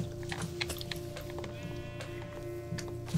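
A sheep in the video game Minecraft gives a single wavering bleat over a steady background hum and soft clicks of gameplay.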